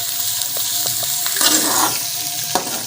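Mixed vegetables with capsicum and green chilli fry in a pan for vegetable noodles, a close, steady sizzle punctuated by a few sharp spatula taps and stirring scrapes.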